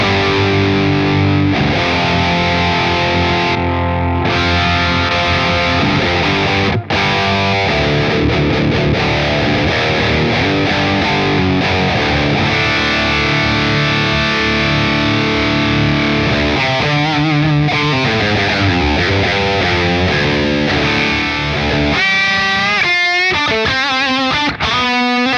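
Distorted electric guitar through a Crazy Tube Circuits Space Charged V2 overdrive pedal with its tight switch engaged and all knobs at noon, loud sustained chords and riffs played close for about 25 seconds with no talking.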